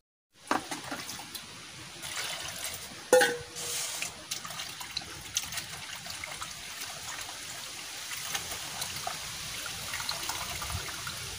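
Leafy greens are rinsed in water in a home kitchen, with quiet sloshing, splashes and trickling close by that start abruptly and continue faintly with no talking.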